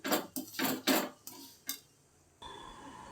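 A spoon stirs shukto dal with a little sugar and ghee in a metal pot, giving a few loud clinking scrapes in an irregular rhythm, then a faint hiss of background noise.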